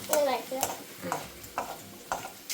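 Ridge gourd sautéing in a pan, a faint sizzle under repeated rhythmic scrapes and knocks of a ladle stirring, with people talking over it.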